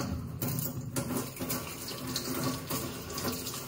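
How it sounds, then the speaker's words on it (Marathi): Tap water runs steadily while items are rinsed and washed under it. Close splashing gushes continue throughout, with brief shifts as things move through the stream. "पाण्याने धुवून होईल सगळे."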